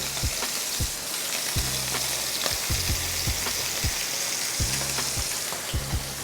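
Scallops searing in a hot pan give a steady, close, crackling sizzle, with occasional soft knocks and taps from the pan throughout.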